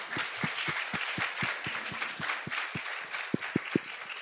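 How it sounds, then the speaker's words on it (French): A small audience at a talk on insects and spiders applauding, with a few distinct nearby claps standing out sharply from a softer spread of clapping, uneven and fairly light. "sous vos applaudissements, François Lasserre"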